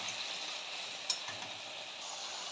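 Spice masala with Kashmiri chilli powder frying in a pan before prawns are added, a steady soft sizzle with a faint tick of stirring partway through.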